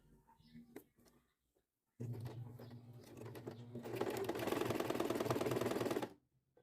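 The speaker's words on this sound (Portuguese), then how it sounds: "Vou costurar as duas alças e depois eu mostro o resultado" A sewing machine stitches two fabric straps, with backstitching at the start and end, running in a steady, fairly loud continuous whir that grows busier and denser toward the end before stopping abruptly, after a few faint handling sounds.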